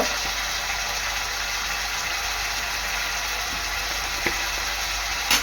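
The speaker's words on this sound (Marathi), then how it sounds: "कांदा टोमॅटो चांगले तेलात शिजून घ्यायचं आहे" Onion, tomato and asafoetida fry in hot oil in a pan, giving a steady, dense sizzle that holds evenly throughout, with a couple of faint clicks near the end and no talking.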